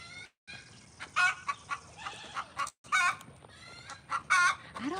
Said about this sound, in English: I'll show you these chickens up here real quick